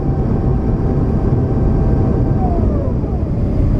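Cabin of a China Airlines Airbus A350 on landing approach to Taipei, filled with a steady, loud, broadband engine and airflow roar and a faint whining tone that glides downward.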